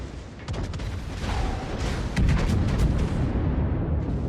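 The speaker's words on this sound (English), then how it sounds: "the main guns do a lot of damage if you can land shells" Main guns of the Großer Kurfürst battleship firing in World of Warships, heard as loud booming salvos in quick succession over a constant rumbling battle din.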